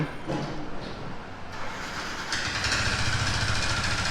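A Yamaha R15 motorcycle engine with piston and ring trouble runs with a steady, rough mechanical clatter that grows louder and denser partway through.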